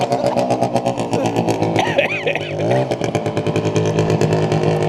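A 440cc two-stroke snowmobile engine fitted to a go kart revs loudly and raggedly nearby, its buzzing exhaust note rising and falling with throttle changes, briefly dipping and surging mid-run with no talk over it.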